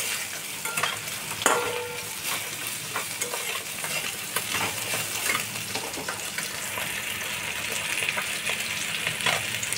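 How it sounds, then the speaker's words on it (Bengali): Fried pointed gourd pieces go into a pan of sautéed spices for a bottle-gourd-greens chorchori, giving a steady sizzle with frequent close spatula scrapes and stirring. "ভেজে রাখা পটলটা আমি দিয়ে দিলাম।"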